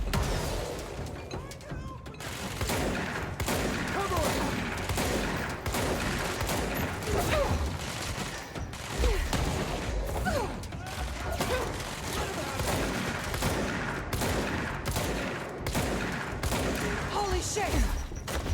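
Sustained suppressing gunfire from a firefight against FBI agents in Control, with dense rapid shots and mechanical clatter going on steadily at moderate level.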